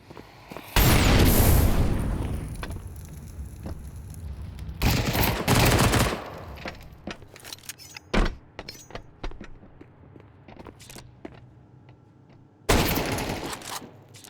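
Close-quarters gunfire from an XM shotgun and AK rifle in Counter-Strike 2 during a collegiate esports match: loud sustained bursts at the start, middle and end, with scattered single shots cracking in between.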